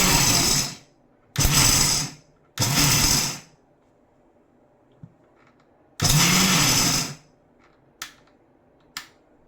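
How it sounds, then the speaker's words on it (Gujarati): Electric mixer grinder coarsely grinding a groundnut mix in short pulses: four loud whirring bursts of about a second each separated by silence, followed by a few faint clicks. "આપણે આને ઓલી રાખી મિક્સરની સ્વિચને એ રીતે આપણે ગ્રાઇન્ડ કરવાનું છે"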